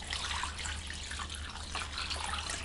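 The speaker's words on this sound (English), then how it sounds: "Next, I'm going to add 2 cups of apple cider vinegar." Apple cider vinegar is poured into a bowl as a steady, close liquid splash and trickle for a couple of seconds, with no voices.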